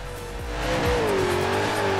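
A four-wheel-drive Hot Wheels car in Forza Horizon 4 drifts around a roundabout, its engine droning steadily as a tire squeal whines in a long, wavering tone over the rumble.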